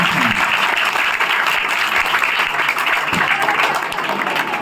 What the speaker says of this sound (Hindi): मैं चाहता हूँ कि उन बच्चियों के लिए जोरदार तालियां आपकी तरफ से होनी चाहिए